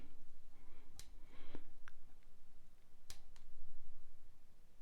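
Scissors snip thread ends off a hand-tied crappie jig, giving two or three sharp, close clicks spaced a couple of seconds apart over a quiet room hiss.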